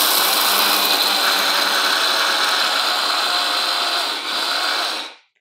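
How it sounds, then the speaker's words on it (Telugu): An electric grinder grinds grain into flour with a loud, steady whirring motor that runs evenly for about five seconds, then cuts off abruptly. "గ్రైండ్ చేద్దాం"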